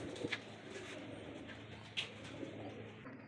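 Deewan Sahab breed pigeons coo softly and faintly, a few brief calls scattered over steady low background noise.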